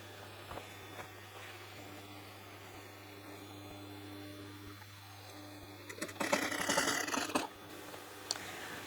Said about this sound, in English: I'm going to overlock all the pieces ready